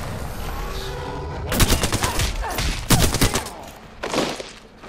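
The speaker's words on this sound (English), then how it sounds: "Bad boys are shooting at me" Video game gunfire in a multiplayer shooter: three loud bursts of rapid shots around the middle and end, with quieter background game noise between them and no talk.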